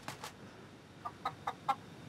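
Short clucking calls from rescued hens, four or five brief bursts spaced unevenly over quiet background noise, with no voices.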